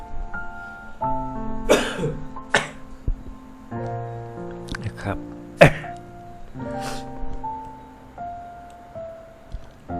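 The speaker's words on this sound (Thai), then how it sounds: "มีเสียงไอเป็นระยะ" Coughs come in short, sharp bursts, about five or six spread unevenly over several seconds, close and fairly loud against a quiet tonal background.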